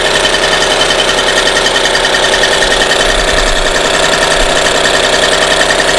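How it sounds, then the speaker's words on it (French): A Solex 3800 moped engine runs steadily as it warms up, a continuous loud mechanical chatter with a rapid, even idle rhythm throughout, close by and with no talk over it. "Donc là, vous voyez, on fait chauffer le moteur."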